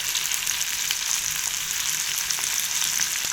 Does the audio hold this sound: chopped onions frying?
yes